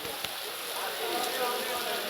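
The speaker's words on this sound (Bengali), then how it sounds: "পুরো বাজারে বৃষ্টি চলতেছে।" Steady rain hisses on surfaces at a market, a continuous wash of patter with muffled voices in the background.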